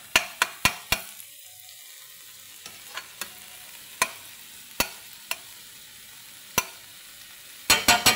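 Chicken being stirred and dried in a pan over sizzling heat for Bisaya bam-i pancit: sparse, sharp scrapes and clacks of a utensil against the pan, in irregular bursts with a quick cluster at the end, over a faint steady hiss.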